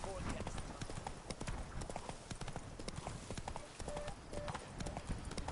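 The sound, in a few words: horse Roach galloping, from the video game Witcher 3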